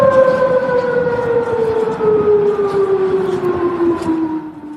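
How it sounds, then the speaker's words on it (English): A wailing air raid siren in Bahrain during missile attacks drones steadily with a slowly falling pitch, loud and sustained, with faint background noise and no talking. "Those are the sirens in Bahrain"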